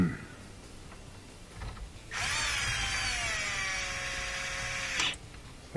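A power drill drives screws into a heater and AC controller from a Yukon, Tahoe or Silverado truck, a steady high-pitched whine of about three seconds after some quiet handling, ending abruptly.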